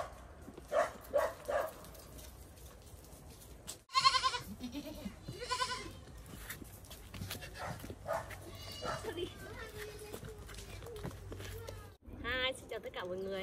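A yellow goat on a mountain farm bleating repeatedly, loud close cries mixed with other animal calls while people talk throughout in the background.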